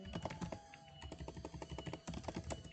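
Quick bursts of keystrokes on a computer keyboard tapping out a copy-and-paste shortcut, a fast irregular clatter of close, quiet clicks with no talking.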